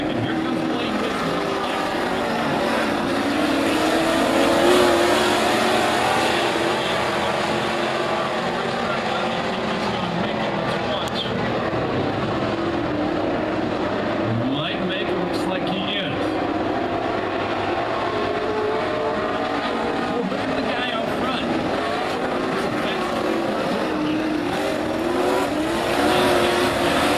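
Super stock race cars roar continuously around a track during a heat race, a loud, sustained engine drone with cars passing close by, while a commentator talks over the noise.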